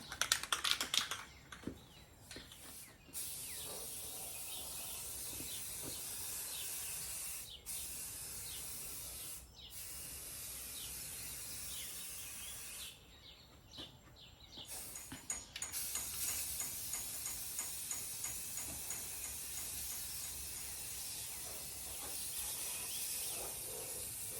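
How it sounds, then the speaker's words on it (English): Aerosol filler primer is sprayed on tail light parts of a 1972 VW Super Beetle in long hissing bursts with brief pauses, followed by a run of shorter spurts, close and alone. "we'll hit them with the primer"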